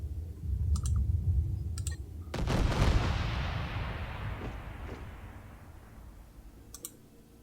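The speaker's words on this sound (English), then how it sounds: "the hail of the fire is being shot at the defense missiles" Space weapons firing at defense missiles in the StarDrive strategy game: a few quick clicks, then a heavy booming blast that rolls off into a long fading rumble, alone with no talk.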